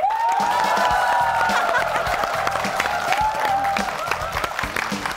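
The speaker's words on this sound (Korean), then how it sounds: "여러분 박수로 환영해 주십시오" A studio audience claps warmly to welcome a guest onto a Korean television talk show, dense steady applause running throughout, fading slightly toward the end, with a voice briefly heard over it.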